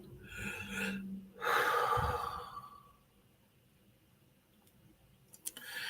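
Breaths are taken in while standing still on grass outdoors: two close, audible inhales, the second a strong gasping draw, then quieter breathing with faint clicks. The clip has no talk.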